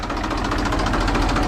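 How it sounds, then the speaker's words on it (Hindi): A tractor engine idles steadily on a village farm in Gujarat, a continuous low rumbling chug with a regular knocking pulse, close and loud throughout with no talk over it. "निकालिए ट्रैक्टर"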